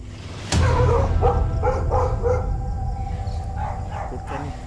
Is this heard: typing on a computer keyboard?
no